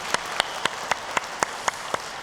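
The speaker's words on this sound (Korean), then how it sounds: "박수로 영광 올려드리겠습니다." Worshippers at a Sunday daytime church service clap together in a steady rhythmic beat, with sharp unified claps about every quarter second over a thick bed of scattered applause.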